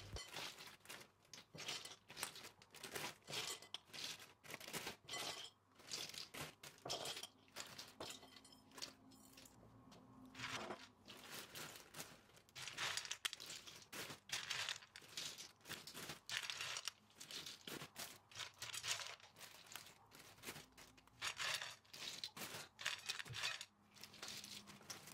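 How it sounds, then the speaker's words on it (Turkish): Plastic freezer bags rustle and crinkle as food portions are packed into them, a quiet, close run of irregular crackles and soft handling noises that continues throughout. "hepsini hazırladım ve buzdolabı poşetlerine pay ediyorum"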